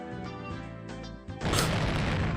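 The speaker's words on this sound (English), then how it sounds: "An explosion of pure white lime burst out of the window." In the video game Higurashi When They Cry Hou, a burst of pure white lime blasts out of a window as a sudden loud whooshing boom that follows a musical passage and carries through to the end.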